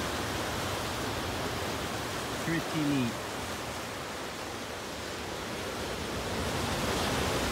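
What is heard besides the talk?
ocean waves crashing against rocky coast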